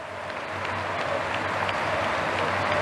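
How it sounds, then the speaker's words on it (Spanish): Stadium crowd applauding Ricardo Bochini at a 2021 tribute, a steady dense wash of clapping and crowd noise holding at an even, loud level throughout. "De pie, señoras y señores, para aplaudir al Bocha."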